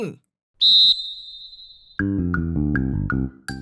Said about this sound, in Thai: เมื่อเสียงเป่านกหวีดให้สัญญาณดังขึ้น